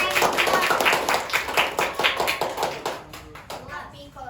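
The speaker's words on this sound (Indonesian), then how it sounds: "boleh tepuk tangan dulu kali ya buat Ibu" Classroom students clap for their teacher, a rhythmic burst of near, crisp handclaps in a steady beat that loosens and thins toward the end, with children's voices mixed in.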